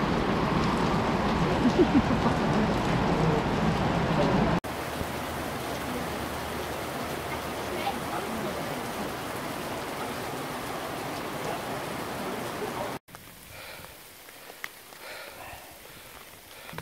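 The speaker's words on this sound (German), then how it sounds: "eben gab es eine starke Regen- und Hagelphase" Heavy rain with hail beats steadily on the ground outdoors on a mountain trail, a dense, continuous hiss that cuts off abruptly twice and then continues more softly.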